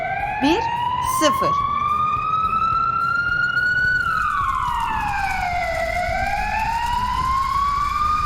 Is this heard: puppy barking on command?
no